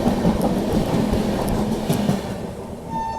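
A Gorakhpur Humsafar Express rolls into a station late, with a loud continuous rumble and rhythmic wheel clatter that eases slightly toward the end as a faint horn-like tone appears.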